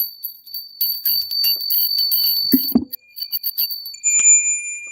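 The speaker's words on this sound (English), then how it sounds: "We'll ring the bell." A small bell rings with a high, sustained shimmering tone, jingling on and off over several seconds, with a couple of dull knocks midway and a fresh clear ring near the end, alone and close.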